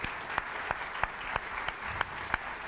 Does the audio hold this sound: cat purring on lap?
no